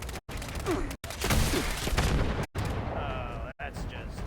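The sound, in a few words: missile launcher firing in video game Fallout 76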